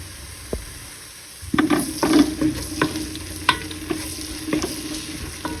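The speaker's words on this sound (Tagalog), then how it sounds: "Saute lang po pa rin po natin" Onion sautés in a pan for tinolang manok; after a quiet opening second, a lively sizzle starts, broken by repeated close spatula scrapes and taps against the pan.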